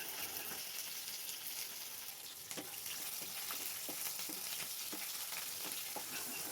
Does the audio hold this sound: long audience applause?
no